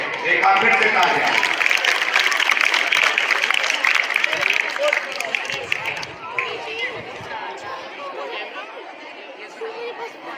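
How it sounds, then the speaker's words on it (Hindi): A school crowd at an annual function for a chief guest's arrival claps loudly and continuously, the applause thinning after a few seconds into a murmur of chatter and voices. "एक बार फिर से तालियां।"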